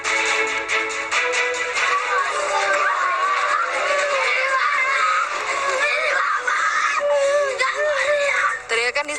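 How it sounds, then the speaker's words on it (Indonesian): Hysterical screaming and wailing from people during the evacuation of a resident killed in a house fire, loud, continuous and high-pitched, with several voices crying out at once. "Teriakan histeris mewarnai proses evakuasi seorang penghuni rumah yang tewas akibat kebakaran."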